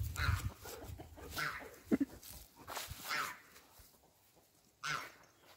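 Dogs give soft whimpers and a few short yelps at close range, broken up by quiet gaps, with one sharper burst near the middle and another near the end.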